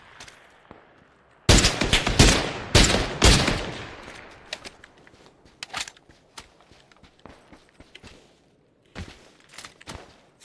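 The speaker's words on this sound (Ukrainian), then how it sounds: "Це наш пасажир стріляє." Rapid bursts of gunfire in the video game PUBG crackle in quick clusters, loud at first, then thinning into scattered single shots and small volleys.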